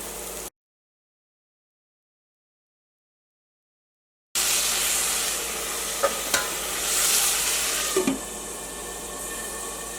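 Tomato goes into a hot pan of turmeric for a papaya curry and sizzles steadily. A brief stretch of silence precedes it, and soft stirring clinks ring out over the constant frying hiss.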